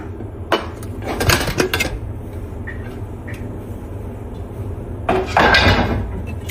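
Metal clanks and clatters from a pressure cooker lid being opened and handled after cooking a vegetable soup, with two bursts of rattling separated by a quiet kitchen background.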